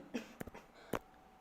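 A woman gives a couple of short, quiet coughs during an art lesson, two soft bursts about half a second apart in an otherwise hushed room.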